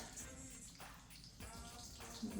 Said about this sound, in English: I'm going to start adding a little bit of water to the base so those rocks can start soaking it up